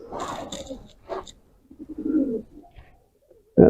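Pigeons in small mini dovecotes cooing up close, several throaty coo phrases broken by short pauses, with a brief loud rustle at the end.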